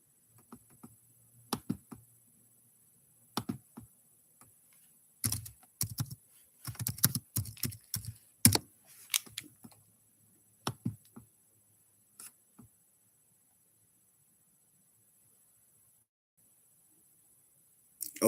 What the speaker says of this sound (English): gotta type it in.